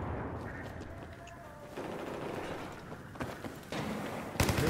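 Video game gunfire crackles in rapid bursts and scattered shots over a steady noisy background of game ambience, moderately loud and continuous, with a sharper burst near the end.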